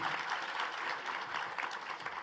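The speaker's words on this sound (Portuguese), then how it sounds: "pedir uma salva de palmas aí" Audience applause for a panel at a regional industry conference, a steady wash of many hands clapping at moderate distance, continuous and even for the whole stretch with no voices on top.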